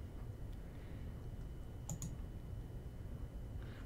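Faint mouse clicks in The Old Tree sound as a couple of small ticks in quick succession against a quiet background hum.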